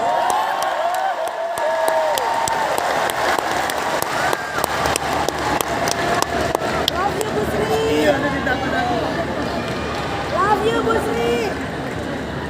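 Applause from a large audience at a Teachers' Day presidential address in Indonesia, a steady dense clapping that fills the whole stretch with crowd murmur and a few cheers mixed in.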